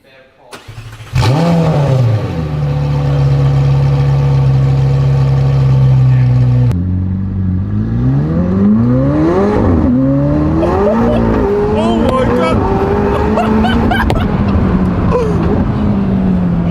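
McLaren 720S driven on a private road, its engine droning loudly and steadily, then rising and falling in pitch as it accelerates, with people talking over it.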